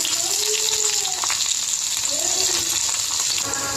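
Onion frying in oil in a kadai, a steady, close hiss of sizzling throughout with a brief tonal squeak or two over it.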